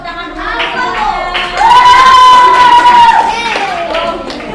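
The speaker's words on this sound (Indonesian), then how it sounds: "Tepuk tangan dulu" Children clapping in a classroom during a lesson, a short burst of hand claps blended with kids' voices and shouting, fairly loud and close.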